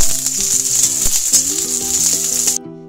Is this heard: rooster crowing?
no